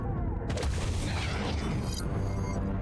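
Grenade explosion in the horror resource-management game Anoxia Station, a deep rumbling boom filling the whole clip with dense crackling debris that lingers and fades slightly near the end.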